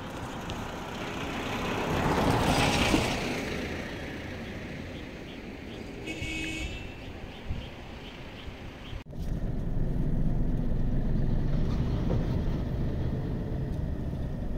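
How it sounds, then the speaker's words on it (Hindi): Road traffic rolling up from behind on a jammed highway near Jim Corbett, a steady broad rumble of engines with a passing vehicle swelling around the middle, continuous and fairly close. "मुझे मालूम है कि ट्रैफिक आ रहा है यहाँ से पीछे से काफ़ी"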